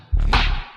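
A beatboxed boing effect in a loopstation beatbox performance, a single loud springy burst with a deep thumping low end and a bright swishing upper layer, lasting under a second.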